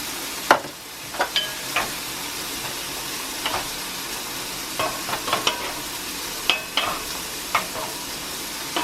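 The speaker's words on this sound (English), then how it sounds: "Mushrooms are cooking up nicely." Mushrooms and bacon sizzle steadily in a cast iron pan, a constant close frying hiss broken by occasional scrapes and taps of a utensil stirring.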